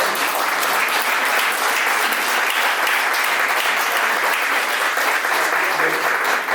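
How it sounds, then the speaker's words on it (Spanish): An audience at a book launch applauds warmly, a dense, sustained wash of clapping that stays loud and even from start to finish, with no talk over it. "Un aplauso total."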